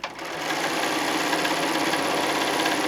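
A sewing machine stitches a quilt strip in a steady, close, continuous whir that runs unbroken throughout, with no talking.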